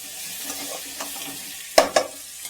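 Onions frying over a raised flame in a pan for crab masala, a steady low sizzle broken by two sharp, close scraping stirs near the end.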